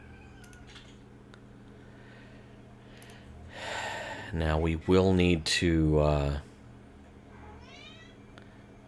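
A cat in the room gives a few loud, drawn-out meows close to the mic, one after another in the middle, with quieter sounds around them and someone speaking briefly near the end.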